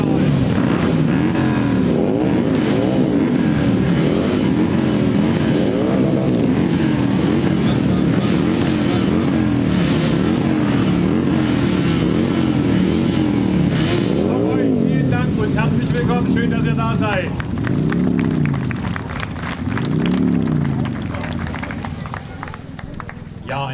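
Two-cylinder motorcycles, inline and boxer twins, rev repeatedly at an outdoor meet in Scheibenberg, loud rising and falling engine sweeps with an announcer talking over them, tapering slightly near the end.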